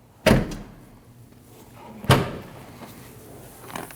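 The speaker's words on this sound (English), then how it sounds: "Once your bumper is installed, you want to close your hatch." Two sharp thuds a couple of seconds apart as the rear hatch of a 2013-2019 Ford Escape is shut, close and solid, with a lighter knock at the end.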